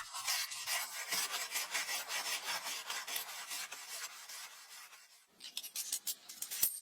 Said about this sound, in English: he gives the parts a deep clean to remove all loose rust and dirt.